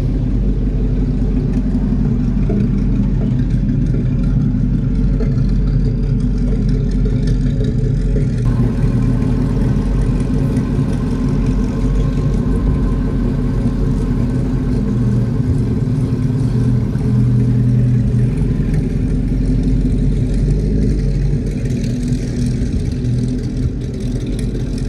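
A 1930 Bentley Speed Eight 6½ Litre motor car drives with its large engine droning low and steady from inside the cabin, rising and easing as it pulls away, continuous and fairly loud for the whole stretch without talk.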